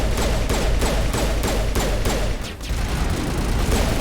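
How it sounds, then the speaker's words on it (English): An enemy fires rockets in Mass Effect: a rapid, regular series of loud thumping launches and blasts over a dense combat rumble, briefly dipping before resuming. "Guy's shooting rockets."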